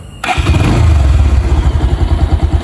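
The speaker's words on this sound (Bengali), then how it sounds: "এবার আমি আপনাকে বাইকটা স্টার্ট দিয়ে দেখাবো, আপনাকে বাইকটার ইঞ্জিন সাউন্ড শোনাবো" A Bajaj Pulsar 150 motorcycle engine starts with a sudden loud catch and settles into a steady, throbbing idle close by, with no voices.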